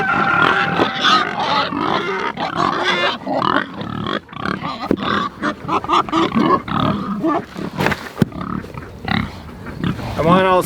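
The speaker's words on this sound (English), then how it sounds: "Let's go check on these baby piglets" Newborn piglets on a farm grunting, squealing and oinking up close in a busy, overlapping chorus, with people talking over them.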